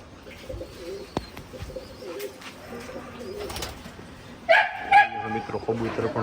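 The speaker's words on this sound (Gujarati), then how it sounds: "મિત્રો કબૂતર પણ ઘણા છે." Pigeons coo steadily at an animal yard kept alongside horses, roosters and rabbits. A dog barks a couple of times near the end, and low murmuring noise runs underneath.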